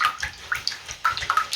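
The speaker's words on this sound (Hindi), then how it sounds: "करके पानी के अंदर ऐड करते रहना है और हाथ की मदद से इसको फेंटते रहना है।" Ghee being beaten into water by hand for samosa dough, with irregular wet slaps, splashes and gurgles in a bowl, close and moderately loud without talk.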